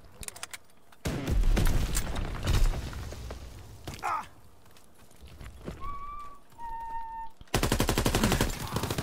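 Gunfire in a WW2 video game, with bursts of rapid shots and bangs alternating with quieter gaps, ending in a loud, sustained volley; voices and other game sounds are faintly mixed in.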